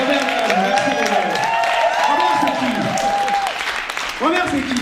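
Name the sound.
audience applause for actor Robert Villajean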